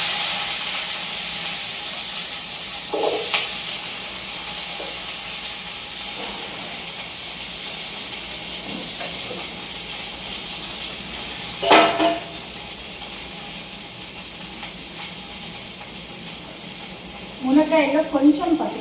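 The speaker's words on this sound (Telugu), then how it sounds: "ఇలా వాష్ చేసుకున్న మునక్కాయల్ని తిరగమాతలు అయితే వేస్తున్నాము." Washed drumstick pieces go into hot tempering oil, giving a soft, steady sizzle and hiss throughout, with a few brief clatters from the pan and short stirring sounds.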